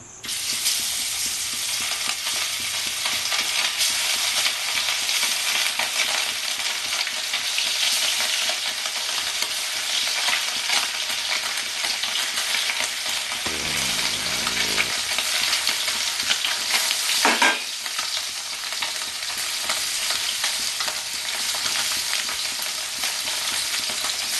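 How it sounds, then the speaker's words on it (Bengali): Gule fish rubbed with turmeric and salt frying in hot oil, a loud, dense, unbroken crackling sizzle that runs the whole time, with a brief sharp clatter partway through. "আমার তেলটা গরম হয়ে গেছে আমি এবার মাছগুলো ভেজে নেবো"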